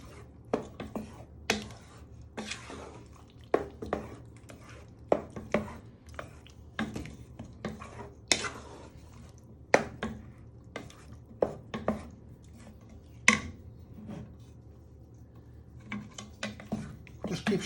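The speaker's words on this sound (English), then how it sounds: "keep stirring it to get all the way round" Tomato and red pepper soup being stirred in a pot, a spoon scraping and knocking against the sides in repeated short strokes, fairly close, with no talk.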